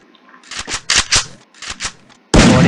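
Draco M1014 shotgun firing in a video game, a run of sharp, loud shots in an uneven rhythm, followed by a sustained blast of noise at the end.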